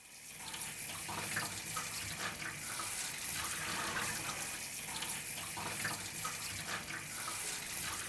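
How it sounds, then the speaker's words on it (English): Tap water runs steadily as excess cure is rinsed off a duck in a kitchen sink, a continuous soft splashing and gurgling stream that holds at an even, moderate level with no talking. "Let's rinse off the excess cure on here."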